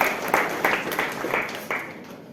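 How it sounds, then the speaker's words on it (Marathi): An audience at a life-skills seminar applauds, a short burst of clapping with rhythmic pulses that fades out by the end. "पहिलं उभं राहायची हिंमत ज्यांनी केली त्यांना टाळ्या वाजतात."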